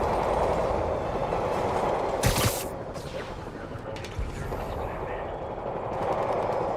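Rapid gunfire from the Spider-Man Remastered game rattles in bursts over a dense, rumbling mix of in-game sound, with a sharp loud crack early on and fainter shots later.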